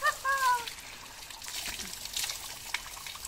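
Water trickles and dribbles steadily at a small waterfall in Chaibasa, Lupungutu Jharna, a soft continuous splashing stream with a brief bird chirp at the start.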